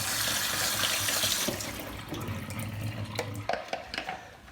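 Soybeans rinsed under a running kitchen tap for soy milk, a steady broad rush of water that drops to a softer trickle partway through, with a few clinks and splashes near the end.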